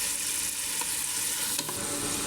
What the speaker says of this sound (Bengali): চালগুলো এখন ঢেলে দিচ্ছি।